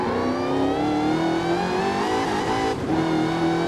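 In Forza Horizon 5, a tuned Fast X flip car's engine revs hard, a loud, continuous rising whine that climbs in pitch, dips briefly as if shifting gear, then pulls up again, with no voices.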